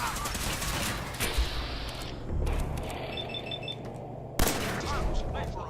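Several gunshots ring out in a combat encounter in Fallout 4's survival mode, a sharp burst followed by scattered shots over a low ambient rumble, with one loud crack near the end.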